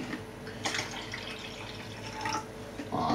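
Distilled white vinegar and water pour into a bottle, a steady close splashing stream of liquid for a few seconds with a brief louder gush near the end.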